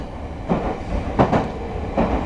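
A Meitetsu 5000 series train runs along the Chikko Line with a continuous rolling rumble and several distinct clickety-clack rail-joint beats.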